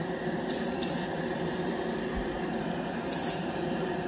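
Mr Hobby Procon Boy SQ single-action airbrush spraying paint on a scale model: a steady, close, continuous airy hiss lasting throughout, with brief brighter bursts near the start and near the end.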